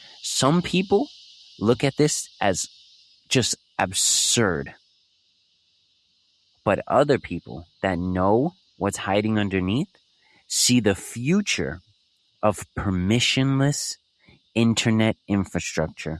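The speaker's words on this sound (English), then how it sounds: "if you hear the cicadas in the background" Cicadas buzz in a steady, high, continuous drone outdoors, running beneath a voice that talks over them in bursts; the insect hum stays audible in the gaps between his sentences.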